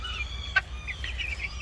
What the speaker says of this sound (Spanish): Hoy aquí saqué uno de los pollos y lo junté con la pollita